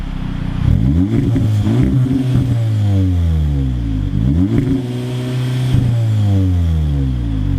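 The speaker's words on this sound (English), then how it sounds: "it's one of the really good sounding 4 cylinders out there" A 2018 Audi S3 2.0-litre turbo four-cylinder engine with S tronic gearbox revs hard through rising gears, each pull climbing in pitch then dropping, loud and close, with two strong acceleration runs.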